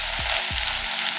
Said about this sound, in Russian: Жарим пару минут, чтобы образовалась поджаренная сырная корочка.